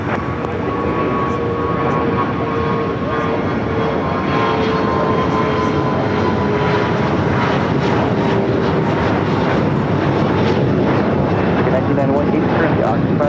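A fixed-wing airliner taking off from runway 25 right at LAX, a steady loud engine roar filling the whole stretch with a faint whine layered on top and faint radio-style voices beneath it.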